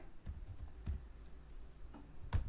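Keystrokes on a computer keyboard while a printf statement is typed in C code, a handful of scattered taps with short pauses between them, close and fairly quiet with no voice.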